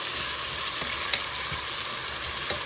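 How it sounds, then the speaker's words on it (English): Red beans and vegetables sautéing in a pan give off a dense, even sizzle with faint occasional stirring taps, steady and close throughout, no speech. "So let this red beans, these veggies saute up"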